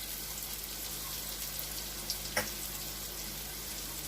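Garlic and ground spices sizzle steadily in a hot pan for prawn curry, a continuous close frying hiss with a couple of small clicks of a stirring spoon, no talk.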